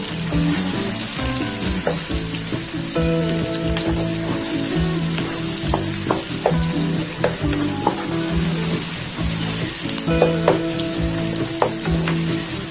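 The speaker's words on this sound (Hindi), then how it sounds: "इस प्याज को अच्छे से फ्राई कर लेना है।" Chopped onions fry in a pan with a continuous close sizzle and crackle and occasional stirring clicks, while soft background music plays underneath.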